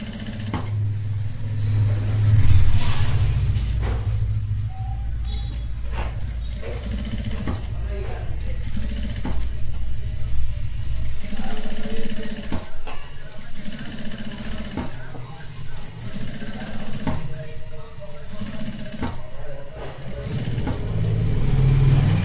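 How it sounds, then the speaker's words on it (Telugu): Electric sewing machine running a flat stitch on a halter neck blouse, a steady whirring hum that continues in long runs with brief pauses, close and fairly loud while someone talks over it. "ఫ్లాట్ స్టిచ్ వేసుకోవాలి."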